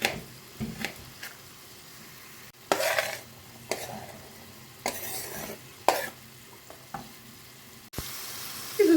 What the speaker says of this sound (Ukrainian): Все разом хай підсмажується.